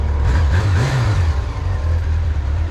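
Car engine revving steadily up and down after a carburetor repair, loud and close, with a constant low drone throughout and no talk.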